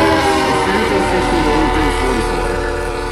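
A CSX freight train in a Roblox railfan game rumbles steadily past with a continuous tonal drone and rolling clatter, fairly loud throughout.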